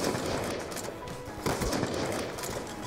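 Game gunfire in Call of Duty, with a pistol among the weapons, comes as dense rapid shots and loud bursts over a busy, noisy mix.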